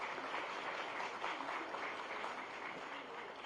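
An audience at an official memorandum-signing ceremony in Gandhinagar breaks into applause, a dense, even wash of many hands clapping, heard from a moderate distance and fairly quiet throughout.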